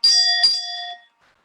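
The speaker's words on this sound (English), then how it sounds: "when you are at the end of your 1 minute, you will hear that bell twice" A bright bell at a city council candidates' debate, marking the end of a speaker's minute, rings twice in quick succession, the second strike landing before the first has faded, then both ring out and decay into silence.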